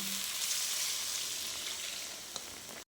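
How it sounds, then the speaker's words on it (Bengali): Tengra fish curry masala in a pan, with water poured into the frying spices, giving a loud, steady hiss and sizzle that fills the whole stretch before cutting off abruptly. "এবার আমি পরিমাণ মতন জল দিয়ে দিচ্ছি"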